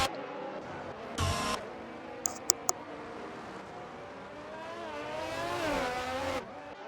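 F1 race cars in a racing video game, a McLaren running ahead of an Alpine on the Mexico circuit, engines whining steadily at high revs with a brief rising scream as one passes, plus a few short clicks.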